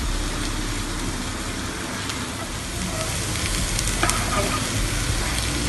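Carrot and kidney beans fry in a pan with a continuous sizzling hiss and occasional stirring scrapes, close and steady, with no voices.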